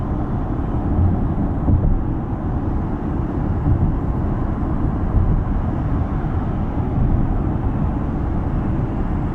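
Steady, even low hum of road and wind noise inside a 2023 Genesis G90 hybrid cruising at 80 km/h, with no voices and only slight swells in level.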